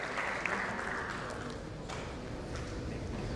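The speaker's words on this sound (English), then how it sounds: "Big round of applause for Mr. Chatterjee for his wonderful contribution to the panel session." Audience applause for a panelist at a customer experience panel session, a soft, diffuse patter of clapping from a seated crowd lasting a few seconds, fairly faint and distant, with a low room rumble underneath.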